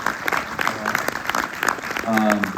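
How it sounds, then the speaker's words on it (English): Audience applause for a film's director during a cast and filmmaker interview, a steady patter of clapping from a crowd with voices talking over it near the end. "Yeah, you can applaud that."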